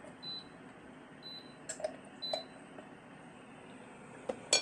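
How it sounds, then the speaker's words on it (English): A few short electronic beeps from a ZSTAR air fryer cooking hamburger sound in a quiet room, spaced out, with faint clicks and handling noises between them. "This thing is beeping at me, telling me to turn it"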